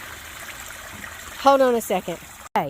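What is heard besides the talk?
banana peel fertilizer liquid poured through a laundry basket strainer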